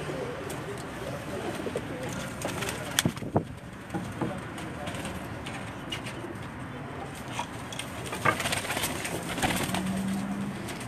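Pigeons coo on a rooftop loft in Jeddah, soft repeated calls rising over a breezy outdoor background with a few sharp knocks and some talk nearby.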